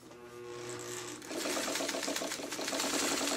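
A sewing machine stitches fabric along a marked seam line, starting after a second of quieter handling and then running in a steady, loud, continuous whir close by with no talking.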